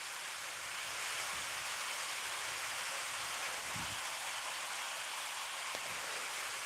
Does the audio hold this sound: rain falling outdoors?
yes